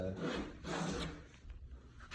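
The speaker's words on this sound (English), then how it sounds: "I'm just sanding over them really quickly so that they won't give me any splinters." A steady, continuous rasp from a handheld battery-powered sander that swells and eases in a couple of passes over wooden boards, fairly close and fairly loud.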